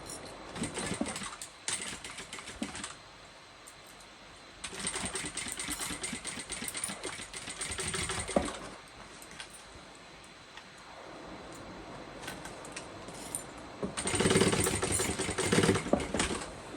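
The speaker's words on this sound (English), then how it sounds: "I'm just basting it at 1/8 of an inch." A sewing machine runs in several bursts of rapid mechanical stitching, basting an eighth-inch seam on a bucket bag, close and moderately loud, with quieter pauses between runs.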